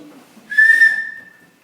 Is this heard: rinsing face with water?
no